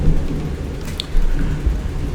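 Thunder as a storm approaches: a loud, low, continuous rumble fills the short stretch, swelling slightly in the middle, with no voices.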